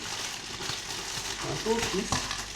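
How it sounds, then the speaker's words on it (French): Frozen sliced onions frying in oil in a pan, a steady broadband sizzle with occasional stirring clatter, moderately close, and a few faint pops. "revenir les oignons et cuire les lardons dans la poêle"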